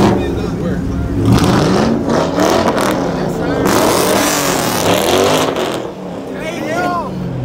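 A loud car revs hard at a car meet, with engine roars rising and falling close by over several seconds, while people talk loudly over the noise.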